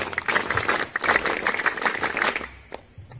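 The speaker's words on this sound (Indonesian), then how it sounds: "Tepuk Pramuka." Rhythmic group clapping in a Pramuka scout clap at a school scout gathering, a run of quick patterned claps from many hands lasting about two and a half seconds, then fading into a quieter room with a few scattered sounds.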